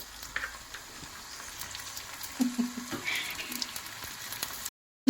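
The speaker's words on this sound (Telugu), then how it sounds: "సో కొంచెం ఫ్రై చేసుకోవాలి." Meal maker curry frying in a pan in a home kitchen, with chapatis cooking nearby: a soft, continuous sizzle with faint crackles and an occasional light clink, close by and without talk.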